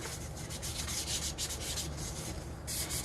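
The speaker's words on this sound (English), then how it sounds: "then you're just gonna sand" A tumbler is sanded by hand, giving a steady, close, scratchy rubbing with quick back-and-forth strokes that continue without pause, with no voices.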